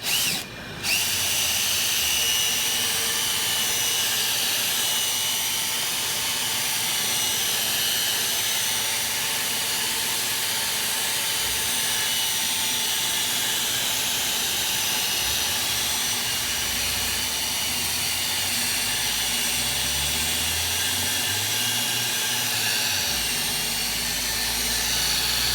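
A power polisher buffs dock rash out of a boat hull, a steady loud whine running without pause from start to finish, with a low rumbling wobble toward the end.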